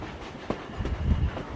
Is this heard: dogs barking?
no